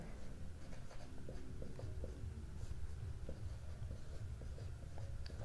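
Chalk or marker scratching across a board during a maths lesson, a steady stream of short strokes and taps, quiet and close, with no talk over it.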